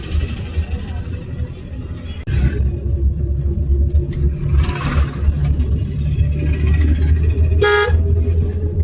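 Inside a car in traffic, constant engine and road rumble runs throughout, with a brief horn toot near the end and a short swell of passing vehicle noise midway.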